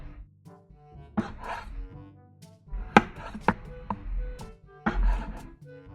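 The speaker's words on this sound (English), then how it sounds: "We're gonna cube up these potatoes." A knife cubes potatoes on a cutting board for curry, with scattered sharp thunks and chops separated by pauses, close and fairly loud in a quiet room.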